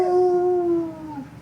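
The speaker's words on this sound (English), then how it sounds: "Can you do a howl?" A pet dog howls on request, one drawn-out tonal howl that slides slightly downward and fades near the microphone, with no talking over it.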